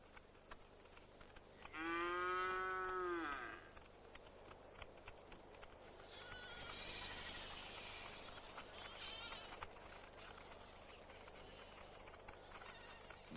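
A single distant cow in a grazing cattle herd lets out one drawn-out moo that rises and falls, followed by quiet, breezy open-air ambience with faint rustling.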